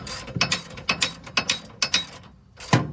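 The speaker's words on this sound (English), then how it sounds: "I'm gonna see if I can get my torque wrench up in here" A torque wrench ratchets on a TorkLift tie-down bolt on a Ford F-350 pickup, giving about seven short bursts of close metallic clicking with brief pauses between them.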